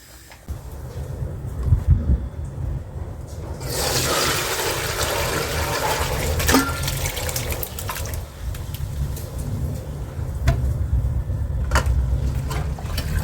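Whey from curdled milk pours and splashes steadily while making homemade cream cheese, starting after a few seconds and running on as a continuous rushing trickle, close by, with no talking.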